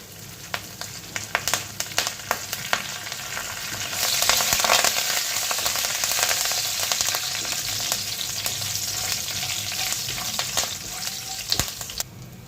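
A tempering of urad dal, chana dal, dried red chillies, chilli flakes and curry leaves crackles and sizzles loudly in hot oil, with sharp pops over a continuous frying hiss that swells as more is added.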